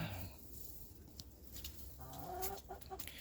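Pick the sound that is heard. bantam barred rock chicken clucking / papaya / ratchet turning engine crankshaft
bantam barred rock chicken clucking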